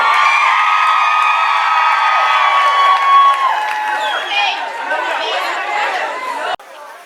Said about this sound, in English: Everybody, give a round of applause for my God.